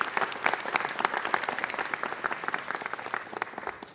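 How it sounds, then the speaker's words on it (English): A city council audience applauds a retiring Department of Transportation employee after 31 years of service, steady close-range clapping lasting about four seconds and tapering off slightly at the end. "Let's give him a big round of applause."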